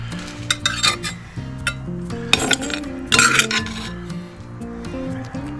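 Metal utensils clink and scrape against a cast-iron Dutch oven as a roasted steak is lifted out, with several bright clatters over a steady low hum.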